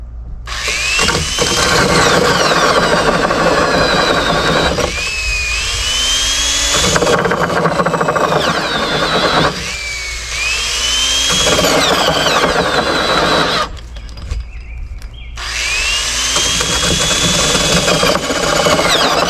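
A power tool whines loudly and steadily as it carves a male tenon on the end of a log for a fence, running in long bursts separated by brief pauses, with no talking.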